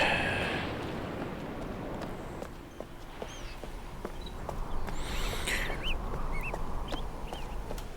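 Duck-seal creatures in the game Riven give short, faint chirping and squawking calls scattered across a steady outdoor ambience of surf and wind, with a few soft footsteps in the background.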